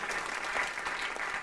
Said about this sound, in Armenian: այս ծափահարությունները թող կողնորոշեն քեզ դեպի հաղթանակ։